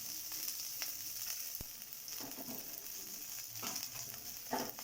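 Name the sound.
capsicum, curry leaves and peanuts frying in a pan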